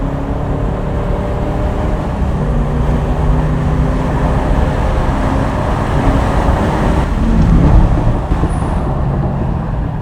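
Engine of a 1990 Chevrolet C4 Corvette Z51 six-speed on a track, a continuous loud drone with road roar that climbs and swells briefly near the end.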